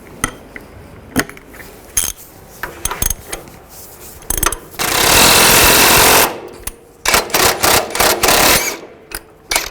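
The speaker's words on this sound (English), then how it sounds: "As we tighten this, it's going to push the ball joint up" Mechanical clatter and a sustained loud grinding burst from tightening a press on the lower ball joint of a 2005-15 Nissan Xterra, close and dominant, with sharp rattling bursts before and after.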